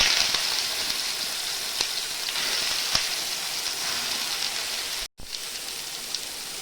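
Soybean chunks fry in hot mustard oil, a steady, close hissing sizzle like heavy rain that runs almost without a break, with one brief dropout near the end.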